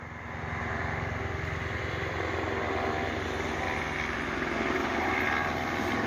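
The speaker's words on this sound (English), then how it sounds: "But here comes the chopper." A police helicopter flies over the I-75 highway near Findlay, Ohio, its rotor and engine producing a steady, loud droning thrum that holds throughout with no talk.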